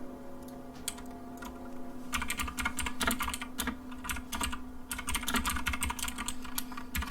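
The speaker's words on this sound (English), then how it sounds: "I'm sorry about my loud keyboard." Rapid clicky keystrokes on a mechanical keyboard, close and fairly quiet, in steady bursts over a faint background hum.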